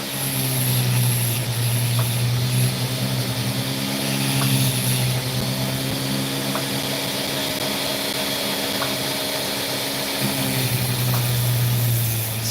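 A rock saw cuts steadily through a layer of opal, a continuous droning whir with faint periodic ticks, sustained and fairly loud throughout with no talking.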